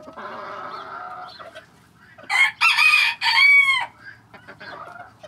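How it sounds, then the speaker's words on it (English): Black American game bantam chickens cluck softly, then a rooster crows in a loud, close, multi-part call, followed by a few more quiet clucks in a quiet setting. "Little pair of black American game bantams."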